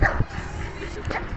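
A pet dog gives a few short yips and barks near the microphone, mixed in with people talking and background noise in a home.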